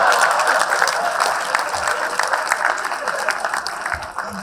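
Applause from a conference audience fills the space as a thick, continuous clatter of many hands, steady and fairly loud throughout.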